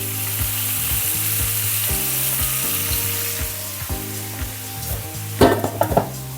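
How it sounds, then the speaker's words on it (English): Steak sizzles steadily in a pan while being basted with rosemary and fresh basil, a constant close frying hiss broken by rhythmic utensil scrapes and a louder spattering flare near the end. "This is going to be the basting"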